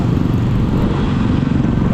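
Three motorcycles ride along a road together, giving a continuous, loud engine rumble and road roar that stays steady and close throughout, with no talking.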